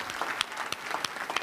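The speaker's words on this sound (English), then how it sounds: "One more round of applause here." Brief, steady applause from an audience at a Boston Public Schools valedictorians luncheon, a close patter of clapping hands with no voices.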